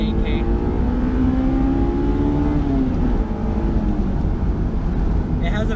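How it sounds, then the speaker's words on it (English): A Honda S2000 engine revs hard toward its 9,000 rpm redline, a loud, steady rising wail that climbs in pitch up close, briefly dips, then pushes on again before fading out. "It sounds awesome when you're getting higher up in the RPMs."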